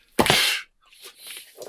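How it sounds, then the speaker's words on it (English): One loud, close sneeze from a person, a sharp burst followed by quiet breathy sounds and a soft murmur. "Hold on, I'm gonna sneeze."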